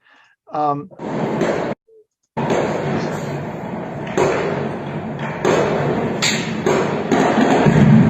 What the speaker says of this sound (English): That's gunfire going on in the city